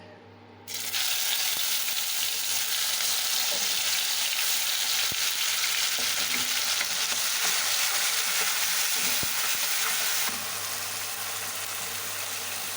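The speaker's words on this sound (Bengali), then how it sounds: "তেল গরম হয়ে গেছে এবার টমেটো পেঁয়াজ রসুন আর কাঁচা লঙ্কা একসঙ্গে বেটে রেখেছি এটা দিয়ে দেব" A ground paste of tomato, onion, garlic and green chilli hits hot oil with a sudden loud sizzle that continues as a steady, close, hissing fry for several seconds, easing slightly near the end.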